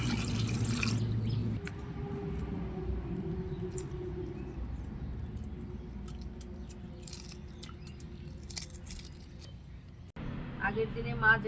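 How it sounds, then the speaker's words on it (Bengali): Running water poured over freshly boiled eggs to cool them in a kitchen, a steady splashing stream through most of the clip, broken by a short pause and a louder gush at the end. "জল দিয়ে ঠান্ডা করে নেব।"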